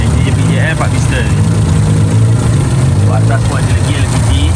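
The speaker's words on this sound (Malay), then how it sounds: "Enjin JBJL 4 piston." A small modified car with a JBJL four-piston engine idles, a loud, steady, throbbing drone that holds close and unbroken throughout, with voices chatting over it.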